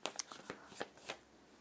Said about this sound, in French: Et je l'ai fait sur des cartes assez fines. Donc c'est pas facile à battre